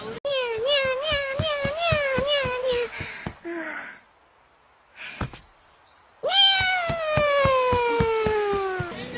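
A person in cosplay imitates a cat with long, wavering meows, several drawn-out cries before and after a short quiet gap with a breathy sound.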